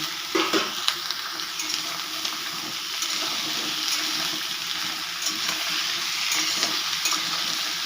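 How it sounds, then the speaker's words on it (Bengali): Onions fry in a pan with a steady, close sizzle, broken by occasional light scrapes and taps of stirring. "পেঁয়াজটাকে একটু ভাজা ভাজা করে নিয়ে এর মধ্যে দিয়ে দেব কুমড়ো পুঁই শাকটা"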